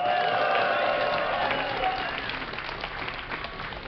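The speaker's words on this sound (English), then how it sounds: "If you would like Fenix to close out this series 2-0, give a cheer for Fenix!" Crowd at a DreamHack 2010 StarCraft II match cheering and applauding, a loud sustained roar that slowly eases off.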